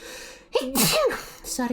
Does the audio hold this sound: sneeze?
yes